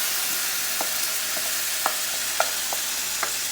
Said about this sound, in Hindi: तो सारा चिकन इसमें डाल दूँगी